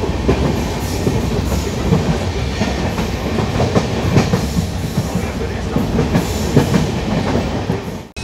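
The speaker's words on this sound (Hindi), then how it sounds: "ट्रेन जो है वो कॉन्स्टेंटली इसी स्पीड पे कब से चल रही है, अराउंड 60 किलोमीटर पर आवर का स्पीड मेंटेन करके चल रही है" A passenger train on the Madurai to Bodi route through Theni runs at a steady speed of about 60 km/h, giving a loud, continuous rumble with rhythmic clickety-clack of the wheels and no talking.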